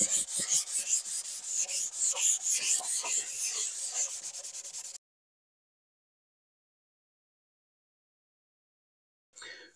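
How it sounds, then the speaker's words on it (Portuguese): Hand sanding of filler on a styrofoam ceiling panel with 220-grit sandpaper, a close, steady rhythmic rasp of back-and-forth strokes for about five seconds, then silence and a brief final scrape. "Hora de lixar, pessoal, lixa 220."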